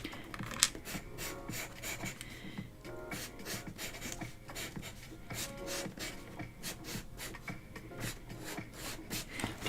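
Pastel is rubbed across tracing paper in quick repeated strokes, a rhythmic scratchy shuffling that continues steadily close up, with no talk.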